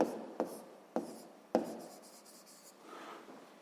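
Pen or chalk writing out a math expression for a sixth-grade exercise: three sharp taps as strokes begin, then soft, steady scratching strokes, close and fairly quiet, with no voice.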